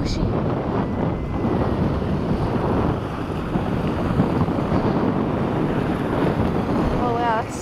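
Waves wash and churn along a black sand beach, a steady loud rush of surf mixed with heavy wind buffeting the microphone, with no clear talk.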